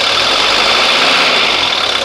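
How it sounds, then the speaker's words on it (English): A 1983 Mercedes 240D diesel engine idles steadily and loudly up close, a smooth continuous rumble with no pauses or voices. "As the engine warms up, it gets really smooth."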